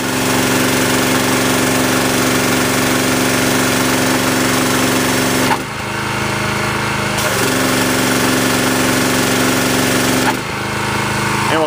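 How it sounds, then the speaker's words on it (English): A Generac pressure washer engine runs at low speed, a loud, steady droning hum with a rough mechanical rattle, briefly dipping and shifting in tone twice as the load changes. "That's low speed on the engine."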